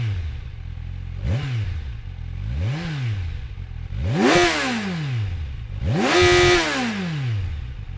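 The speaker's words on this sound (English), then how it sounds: "you can really hear the intake sound rumbling" A 2023 Kawasaki Ninja 1000SX sport touring motorcycle revs up four times, each blip rising into a rumbling intake roar and falling back to a lumpy idle, loud and close with no talking.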